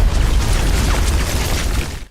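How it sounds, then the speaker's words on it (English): A grenade explodes in a single loud, sustained blast: a dense, close roar that fills the whole short span and cuts off sharply at the end. "Luckily, the explosion didn't hit Guerrero directly."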